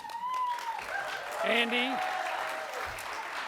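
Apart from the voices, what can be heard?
audience applause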